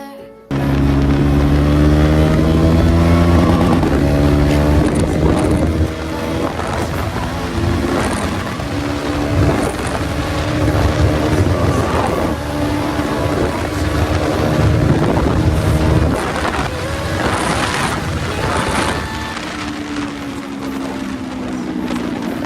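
A KTM Duke 390 motorcycle rides without an exhaust, its raw, loud engine rising and falling through gear changes with heavy wind noise throughout the run.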